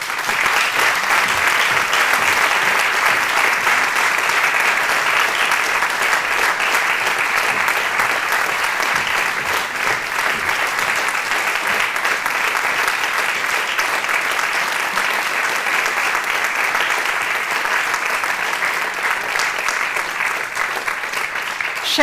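Sustained audience applause at the national opening of TVU 2023 in Ajdovščina, a dense, even clapping from a large indoor crowd that carries on steadily for over twenty seconds.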